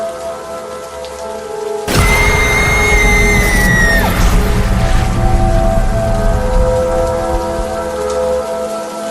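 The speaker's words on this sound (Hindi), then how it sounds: "इतनी तेज बारिश और गरजते हुए बादलों के बीच" Heavy rain pours steadily, then a loud thunder crash breaks in and rolls on under the downpour, in a stormy night forest scene of a horror game.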